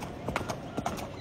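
Horses walk at a farm, their hooves clip-clopping in a loose, uneven rhythm. The steps sound fairly close and there is no talking over them.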